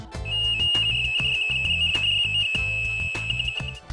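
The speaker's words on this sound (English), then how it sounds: "you'll hear transmission sounds like this." A Kenmore Elite 9051 gas dryer's diagnostic transmission tones: a steady high-pitched electronic tone holds almost unbroken over a pulsing, buzzing lower warble, loud and continuous.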